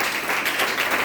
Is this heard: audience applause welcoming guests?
yes